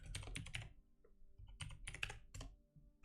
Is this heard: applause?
no